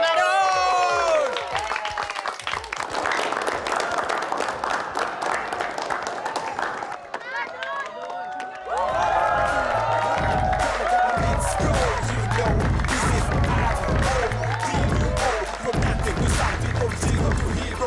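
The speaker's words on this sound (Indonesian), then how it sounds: "Tepuk tangan buat Madun" A studio audience at a televised contest claps and cheers for an arriving contestant, a loud, continuous wash of applause with a host's voice and music underneath.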